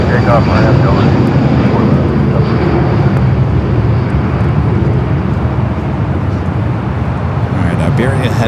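An airplane takes off from runway 24 left at Los Angeles International Airport, a loud, continuous engine roar filling the whole stretch, with people talking faintly beneath it.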